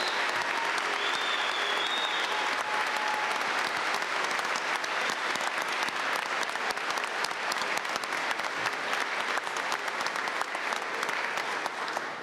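Commencement audience gives a long, steady round of applause for new master's graduates, dense clapping filling a large hall throughout.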